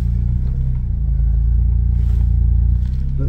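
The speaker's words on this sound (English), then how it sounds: "You might be able to hear the engine, you might not." Rebuilt Smart ForTwo 450 engine running during a road test, heard from inside the car as a steady, loud low rumble with a faint engine drone and slight rises in pitch, with no talking.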